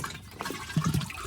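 Water gushes from a pump into a container on a farm, a short splashing, rushing flow heard alone at moderate loudness.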